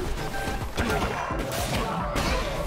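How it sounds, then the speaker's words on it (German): Explosions burst out during a boss fight against Heket in the video game Cult of the Lamb: repeated loud crashing, thudding blasts in quick succession over a dense, busy game soundscape. "Die Explosion war ja viel zu krass!"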